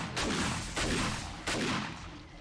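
Three heavy shotgun blasts in the video game 7 Days to Die, spaced a little over half a second apart, each loud and booming with a long fading tail that overlaps the next shot.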